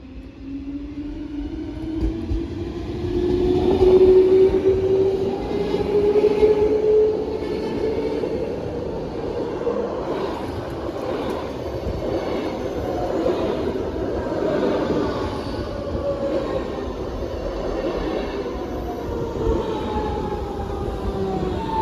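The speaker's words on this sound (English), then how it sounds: "Because the Class 420 is just a cool train." A Munich S-Bahn Class 420 electric train on the S7 passes close by, with a rising motor whine that swells to a peak and then settles into a steady rumble and rolling wheel noise.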